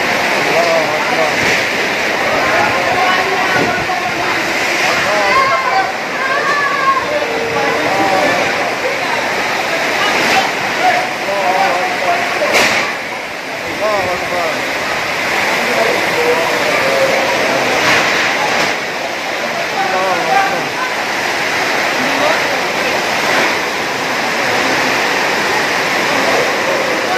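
A strong windstorm hits Nabire, Papua. It roars loudly and without break, with gusting surges and clattering debris. Voices shout through it now and then.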